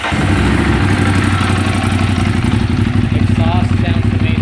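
A Ducati Monster 821 idles close by, its exhaust giving a loud, steady, throbbing low pulse with a rough mechanical clatter on top.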